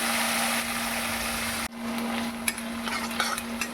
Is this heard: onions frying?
yes